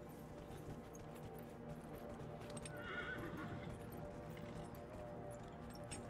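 In Dragon Age: Inquisition, a horse snorts and whinnies faintly amid game ambience, with steady hoof clopping under it.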